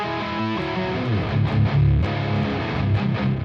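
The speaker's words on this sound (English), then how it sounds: "Distortion." Music run through a distortion plugin in a mixing session, giving a gritty, saturated mix with a thick low end and a steady beat, with no talking.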